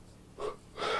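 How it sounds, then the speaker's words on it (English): A person yawns with a breathy, airy inhale that swells, pauses, then rises again into a longer, louder exhale near the microphone, with no words spoken. "I'm yawning in every single video"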